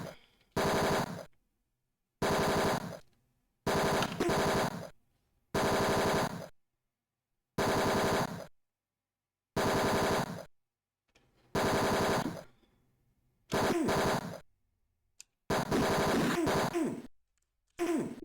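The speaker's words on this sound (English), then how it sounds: "Bullets take so long to leave the screen." Bursts of gunfire from bullets in the 1989 DOS game Tex Murphy: Mean Streets, about eight separate loud rattling volleys each lasting roughly a second, separated by clean silent gaps.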